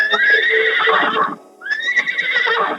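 Horses neigh in a storytelling sound effect, two loud, close whinnies one after the other with a short pause between, alone without speech.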